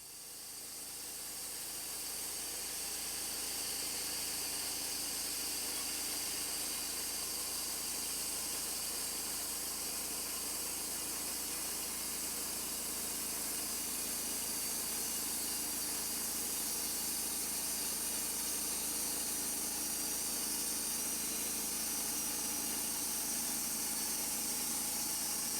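Long, steady high-pitched hiss and whine of a Wood-Mizer LT35 sawmill blade cutting a log into boards, continuous and loud with an engine hum beneath, no voices.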